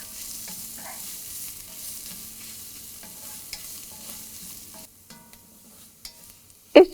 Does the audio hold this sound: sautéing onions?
yes